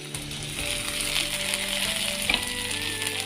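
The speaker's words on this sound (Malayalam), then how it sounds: "വഴറ്റി കൊടുക്കാം" Sliced ginger, garlic and tomato sauté in hot oil for a hotel-style fish curry, a constant close sizzle broken by a few light clinks and scrapes of stirring.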